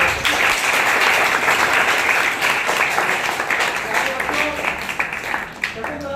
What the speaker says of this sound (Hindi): आप अपने लिए जोरदार तालियों से अपना स्वागत करें